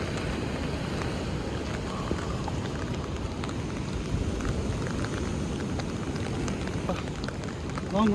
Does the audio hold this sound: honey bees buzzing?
no